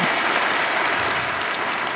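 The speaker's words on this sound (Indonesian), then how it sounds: "Berikan tepuk tangan kita untuk Tuhan kita" A church congregation gives a round of applause during a service, a thick, even roar of many clapping hands heard close and loud, with no talk over it.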